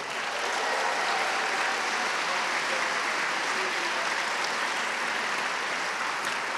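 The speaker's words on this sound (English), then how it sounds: "How about one more round of applause for our concert band," Applause for a high school all-county concert band: a big crowd claps in a thick, even wash that holds steady for over six seconds at full strength, with no pause.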